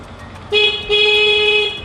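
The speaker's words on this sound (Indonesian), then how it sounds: "kita akan mengecek kinerja dari klakson." A short motorcycle horn beep followed by a longer, steady honk, loud and close, with a shrill, bright tone.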